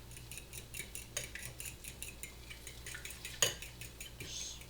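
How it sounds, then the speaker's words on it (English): Eggs whisked in a bowl at home while breakfast is made, heard as rapid, steady clinking and tapping of a utensil against the bowl, moderately close, with one sharper knock partway through. "Just whisking up some eggs."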